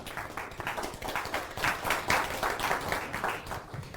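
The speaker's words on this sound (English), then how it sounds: "Give me a round of applause," A small audience gives a round of applause at a talk, uneven bursts of nearby hand claps rising and falling over a few seconds.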